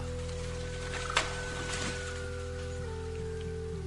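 Rain patters through a rainy night in an animated cartoon forest, a soft steady shower under a low hum, with a brief sharp knock partway through.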